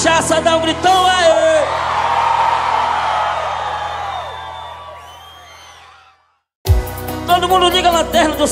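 A concert crowd at a live show by a Brazilian singer roars and yells loudly in a sustained swell, fading out before music and voices resume abruptly.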